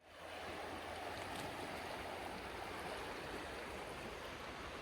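Fast-flowing water of the river Teme rushes in a steady, dense roar that fills the scene from start to finish, close and loud with no voices over it.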